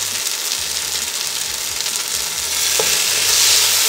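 Coriander and mint leaves sautéed for Kerala-style Mughal chicken biryani, a steady sizzle from the pan with soft scraping stirs throughout, close and fairly loud, growing a little brighter toward the end.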